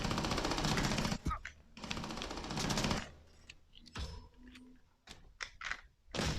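Bursts of rapid gunfire ring out in the online shooter Area F2, two long sustained volleys followed by scattered single shots and short clattering bursts, close and loud, separated by quieter gaps.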